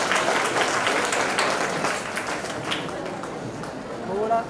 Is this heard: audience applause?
yes